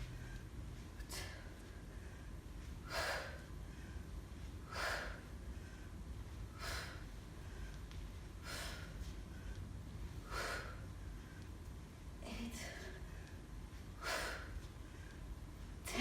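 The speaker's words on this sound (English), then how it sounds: "Gotta catch my breath too." Heavy breathing from someone catching their breath during an exercise workout: rhythmic breathy puffs roughly every two seconds, close and fairly quiet, with no talk over them.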